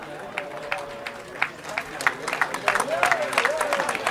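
Crowd in the stands applauds a rugby player leaving the field during a Galician men's league match, scattered clapping building steadily under a commentator's continuous talk.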